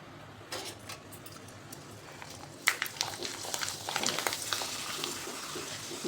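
Jowar flour papad frying in hot oil: a soft sizzle swells into busy, bubbling crackles and sharp pops, growing louder and denser partway through.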